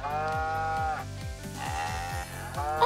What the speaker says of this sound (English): Oxen are large and strong looking animals.